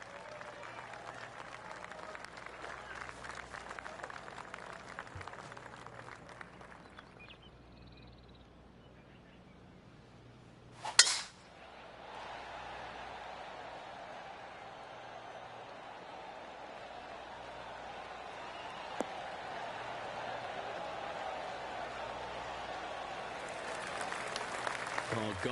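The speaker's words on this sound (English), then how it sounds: "Oh, golf clap." Polite golf clap applause from a gallery in the PGA Tour 2K23 video game rises as a soft, steady patter in the later part, following a sharp crack of a shot midway, with ambient birdsong and outdoor course noise throughout.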